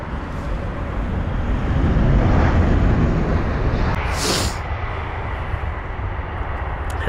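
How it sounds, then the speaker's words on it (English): A British Airways Boeing 787-9 Dreamliner at Heathrow, a loud broad jet roar that peaks and then eases, with a brief hissing burst near the middle and no speech. "And that was the 787-9 Dreamliner of BA."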